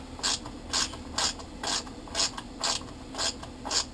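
A ratchet wrench clicks in about eight even bursts, each a short rasping sweep, while a nut is tightened on the fuel pump bracket of a John Deere Gator 620i; close, crisp and regular, with no voices.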